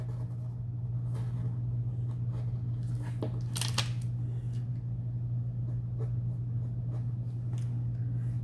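A pencil scratches around a shape on paper in short, close strokes, soft and intermittent over a steady low hum, with one louder rustle of paper partway through.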